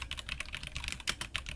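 Rapid keystrokes on a computer keyboard, close and fairly loud, with irregular bursts of clicking and a few heavier presses, no voices.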